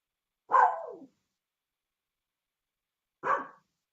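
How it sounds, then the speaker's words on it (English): A dog barks twice, well spaced, the first bark longer and louder, the second shorter, with silence around them. "Dog's starting to yell at you."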